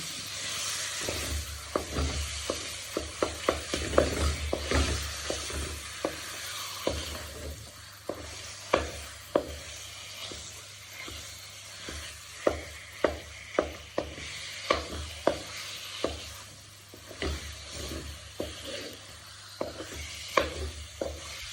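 Dates melting in a pan over a low gas flame, stirred with a utensil: a steady faint sizzle runs beneath repeated sharp scraping taps and knocks, close by, with no talking.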